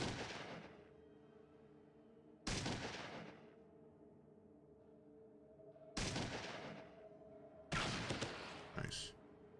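Gunshots in the Fallout 2 video game, four sharp booming shots with decaying tails at irregular intervals, loud against a quiet background.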